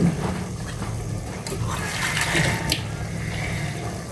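Water gushes and splashes steadily into a cooking pot for a few seconds, close and fairly loud, with a brief clatter partway through.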